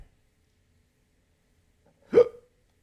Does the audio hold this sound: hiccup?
yes